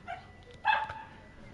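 A dog in the video game Oblivion Remastered gives a single short bark, faint and brief, against a quiet game background.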